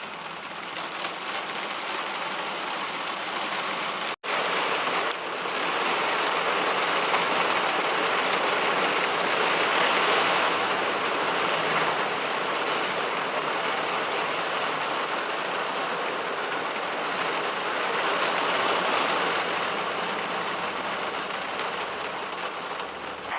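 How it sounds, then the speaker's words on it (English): Heavy rain pouring down around a van broken down on a highway, a dense, continuous hiss of drops drumming on surfaces, loud and steady throughout with a brief dip near the start; no voices. "it's absolutely pissing it down."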